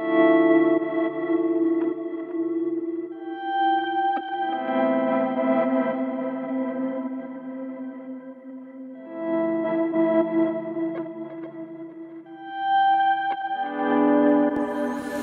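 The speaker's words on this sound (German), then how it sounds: "Und Delay wird zum Teil noch irgendwie gepitcht oder hier reversed, also umgekehrt" Electric guitar run through a Soundtoys Crystallizer, with pitch-shifted and reversed delay trails; sustained chiming notes swell in phrases and blur into a dense, shimmering wash, loud and alone.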